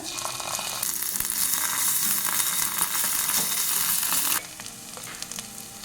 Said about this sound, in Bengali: পেঁয়াজটা একটু ভালো করে ভেজে নেব এবার দিয়ে দেবো একটু রসুন বাটা